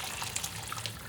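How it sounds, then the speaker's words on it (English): Dissolved stock and water pour steadily into a pan in a continuous, close splashing gush. "I'm going to pour that into the pan,"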